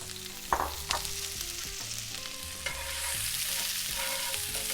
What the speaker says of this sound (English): Now since this is now really hot, we're gonna go ahead and add our onions to this.